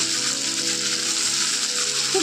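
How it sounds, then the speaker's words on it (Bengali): Onions frying in a pan: a steady, close, dense hiss of sizzling oil with no breaks across the short stretch. "তো চলুন আরও পেঁয়াজটা ভেজে নিই ভাজা হয়ে গিয়েছে"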